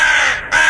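Loud, harsh crow cawing, one sustained raspy call dipping briefly before resuming, close by and without any voices.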